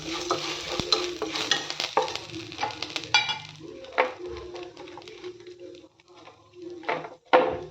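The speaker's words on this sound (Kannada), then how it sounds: "ಕರಿಬೇವು ಹಸಿ ಆಗೋ ಹಸಿ ಹೋಗೋ ತನಕ ಹುರಿದು" Toor dal and curry leaves dry-roasting in a little oil in a pan, with repeated close scraping and stirring strokes over a light, steady sizzle; no one speaks.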